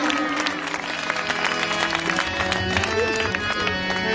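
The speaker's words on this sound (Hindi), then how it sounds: "जोरदार तालियां प्रभु की महिमा के लिए, आज शाम के लिए।" A church congregation at a Christian convention night applauds for the glory of God, steady clapping mixed with sustained instrumental music and tones ringing beneath it.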